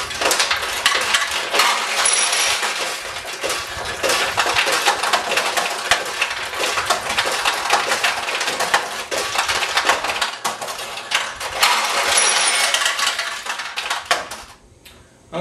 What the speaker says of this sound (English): Balls were filling up into your play tray here, and when the play tray gets full, they back up and overflow into your overflow tray.